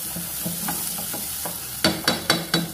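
Tomato khatti meethi chutney cooks in oil over a low flame, with soft sizzling and a spoon stirring through it in light strokes, then four louder, sharper scrapes in quick succession near the end.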